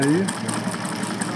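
A Sansei SA-D1541S triple-feed sewing machine winds a bobbin, running at a steady even hum with a light rhythmic ticking throughout, while someone speaks briefly at the start.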